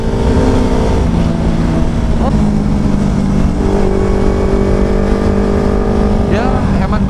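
Two motorcycles ride together on the road to Baluran in Banyuwangi. Their engines give a loud, steady drone with rising and falling revs, close by and under constant wind rush.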